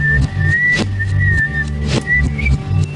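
A song played backwards, its whistled melody gliding over warped, reversed bass and drum swells, loud and continuous with no talk.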